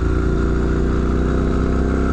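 A Triumph Scrambler motorcycle engine runs loud and close in first gear, a steady throbbing exhaust drone with no talk over it.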